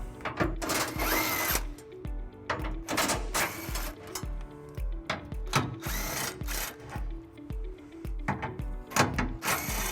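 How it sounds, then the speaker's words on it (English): Ratchet and socket work as a 13mm socket backs out four center bracket bolts under a 2017 Chevrolet Colorado during a trailer hitch installation, with repeated short mechanical bursts and clicks, close up, stopping and starting. "there is a center bracket that we'll remove by taking out these 4 bolts, and we'll be using a"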